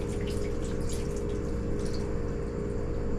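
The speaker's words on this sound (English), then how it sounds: "And we are going to add a cup of broth." Beef broth trickles from a cup into a pot in a home kitchen, a quiet splashing patter over a steady low hum, brief and close.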